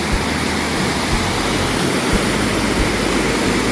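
Bald River Falls pours in a loud, dense, continuous roar of falling water, heard close and steady without any speech.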